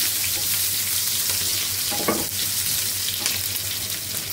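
Cumin seeds and onion fry in hot oil in a pan, giving a bright continuous sizzle with a few stirring scrapes and one sharper crackle midway, close up and without speech.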